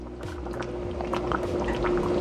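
Taco soup boils in a cast iron Dutch oven, giving a continuous low bubbling and simmering with soft irregular pops, close and moderately quiet, no voices.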